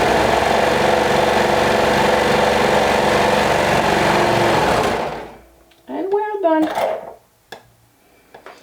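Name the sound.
sewing machine stitching fabric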